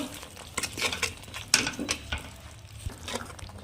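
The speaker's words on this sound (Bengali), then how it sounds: "হলুদ গুঁড়ো লঙ্কা গুঁড়ো জিরের গুঁড়ো আদা রসুনের পেস্ট ভালোভাবে কষিয়ে নেব" A spoon stirs and scrapes turmeric, chili and cumin powders with ginger-garlic paste in a pan for Kashmiri aloo dum, making irregular close clinks and scraping strokes over a soft background.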